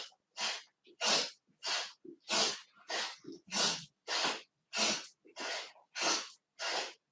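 Quick, forceful exhales through the nose during a twisting yoga exercise, about a dozen sharp breaths in a steady rhythm, close and loud with brief pauses between.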